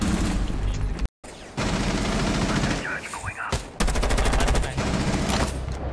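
Rapid gunfire in Rainbow Six Siege, dense bursts and sustained automatic volleys filling most of the stretch with a short silent gap near the start, loud and close, with players talking over it.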